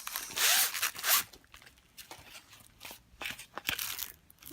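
A package is cut open beside a diamond painting canvas, with close, loud ripping and slicing bursts followed by softer crinkles and scrapes, no voices.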